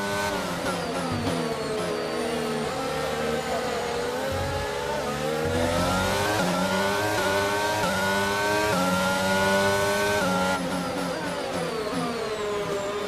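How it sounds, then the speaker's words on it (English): Formula 1 cars in the F1 22 racing game on the Azerbaijan circuit, engines screaming at high revs and shifting pitch through gear changes, a steady loud roar with no talk. "the soothing sound of F1 cars, I'm sure, will make you feel very comfortable indeed"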